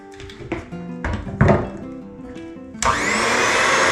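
An electric mixer whirs on suddenly for Bishop's pie ingredients, a loud steady buzzing after a few earlier knocks and tonal sounds.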